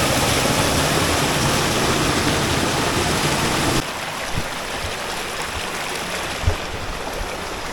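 A small stream runs over tiny cascades on a hike toward Cueva de los Aviones near San Vicente de Chucurí. Rushing water fills the clip as a loud, continuous roar that drops slightly in level partway through.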